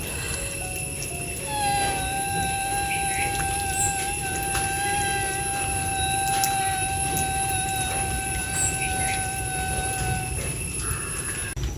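A human voice imitates a mosquito buzzing, holding one thin, nasal, whining tone steadily for about eight seconds, close and fairly loud, then stopping.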